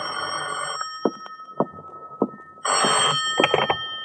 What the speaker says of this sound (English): At 10:05, my phone rang.